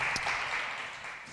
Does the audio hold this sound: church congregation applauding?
yes